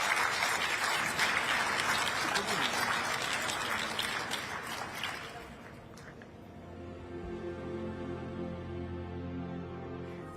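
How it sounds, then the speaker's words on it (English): An audience at a COP28 panel session applauds in a dense, steady wash of clapping for several seconds, then it thins and dies away into quieter background tones. "please do give our wonderful panellists a big round of applause."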